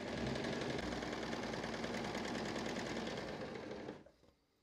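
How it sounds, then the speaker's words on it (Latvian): Bernette b48 overlocker running a 3-thread overlock stitch, a fast steady mechanical chatter that holds at full speed for about four seconds before stopping abruptly, close and loud with no talk. "tagad mēs šūsim ar 3 dūrienu overloku, 3 diegu overloku"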